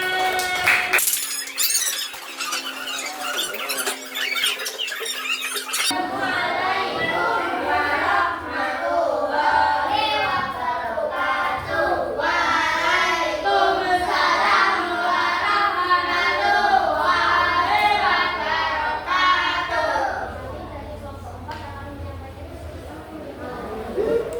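Pupils in a fourth-grade classroom clap after a lesson, a brief noisy patch at the start giving way to a long stretch of mixed chatter, children's voices and scattered clapping that fades near the end.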